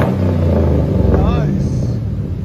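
A Chevy 6.0 V8 idles through a Magnaflow muffler, giving a deep, steady, close exhaust rumble with a slight rise in pitch partway through.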